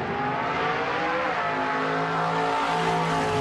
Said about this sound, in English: A car moving towards me sounds high-pitched.